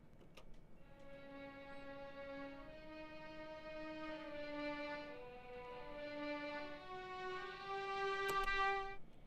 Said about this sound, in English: you can also use the entire violin section.